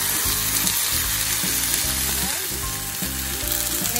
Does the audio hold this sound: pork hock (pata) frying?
yes